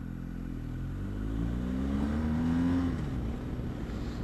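A 2020 BMW R1250 GS motorcycle engine and exhaust hum steadily and fairly loud as the bike rides through traffic, the tone climbing briefly as it accelerates before settling back to a smooth drone.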